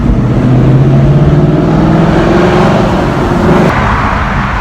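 A 2017 Ford Mustang GT on Nitto tyres drives steadily through a wet track, its engine droning loud and close with a continuous hum and a brief shift near the end.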